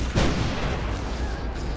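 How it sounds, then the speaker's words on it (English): Gunfire in the Spuds Unearthed VR shooter game, one loud close burst at the start followed by a dense, rumbling wash of shooting noise that stays steady throughout. "And just shoot, whether they're close by or far away,"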